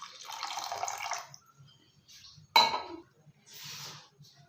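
Water is added to a pot of tamarind soup being cooked, heard as a steady close pour at first, then a short splash and a softer running trickle, with faint clinks in between.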